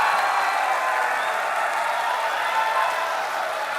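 Audience applause fills a televised 2014 Indonesian presidential debate, a dense, steady wash of many hands clapping throughout, loud and unbroken, with no talk over it.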